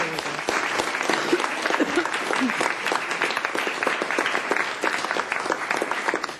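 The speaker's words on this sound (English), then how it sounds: "We need another round of applause here for all our teens." A sustained round of applause from an audience at a city council meeting, steady dense clapping throughout with scattered voices mixed in.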